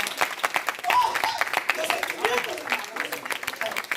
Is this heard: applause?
yes